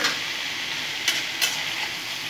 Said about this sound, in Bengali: শসাগুলো দিয়েও আমি খুব সুন্দর করে কিছুক্ষণ 5 মিনিট ধরে আমি নাড়াচাড়া করে নেব